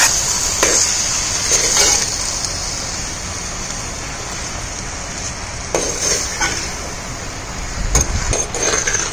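Three-quarters of a kilo of chicken pieces tipped into a hot pan with softened onions for chicken gravy, crackling and sizzling steadily with a few sharp stirring clatters, close and moderately loud with no talking.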